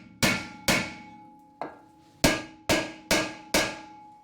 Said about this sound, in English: I'm going to give these a hit with a hammer.